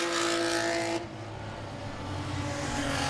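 Race cars roar past at close range during a nighttime enduro race at Langley Speedway, a loud continuous engine rush that drops in pitch as they go by.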